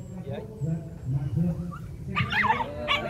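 A young male brindle Phu Quoc dog whimpers and yips while toying with a rat, giving short whiny cries close by while someone talks over it.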